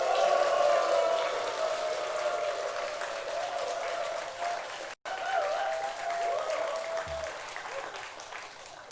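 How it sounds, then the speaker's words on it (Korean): Sustained applause from a church congregation during a sermon, steady and fairly loud across the room, with a brief cut in the middle. "돈도 안 들어가는데 다시 한번 얼굴 쳐다보고 박수!"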